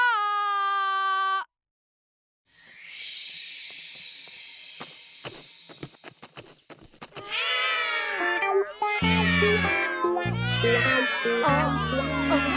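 A cartoon character mimics a cat-calling sound, first as a steady pitched tone, then a breathy hiss with clicking, then meow-like vocal imitations that fill the rest of the passage.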